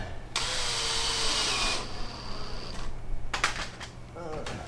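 A drill drives a couple of screws into wood while a bent-wood frame for a small vintage-style camper is assembled, giving one sustained whir followed by a higher whine and then quieter clicks and knocks of handling.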